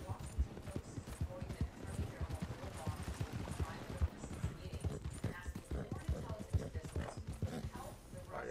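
Video game horse hooves clip-clop in a steady, continuous trotting rhythm, close by, with faint background sounds and a voice talking over them.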